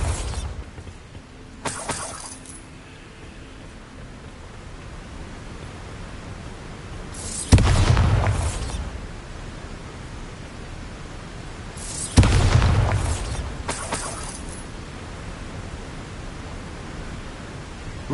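A Bombarda spell blasts in Hogwarts Legacy: two heavy, shattering explosions several seconds apart, each a loud low boom with crumbling debris tailing off, over a quiet hissing ambience.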